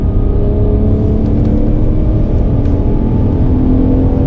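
A car accelerating around the Bedford Aerodrome race track gives a steady, loud engine drone with a constant throttle note and no speech.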